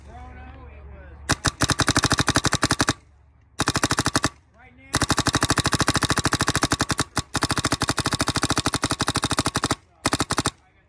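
A Bob Long Alias Intimidator paintball marker fires in rapid bursts outdoors in cold weather, fast loud popping strings broken by short pauses, close to the listener.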